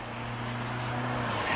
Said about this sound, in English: we have to turn away from all these cars,